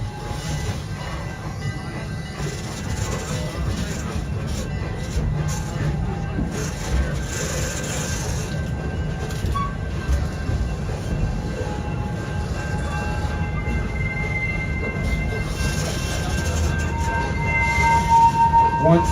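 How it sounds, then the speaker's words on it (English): A theme-park train rumbles and clatters steadily as it pulls into the Nairobi station at Busch Gardens, a continuous close rolling drone growing slightly louder toward the end. "We are now pulling back into the Nairobi train station."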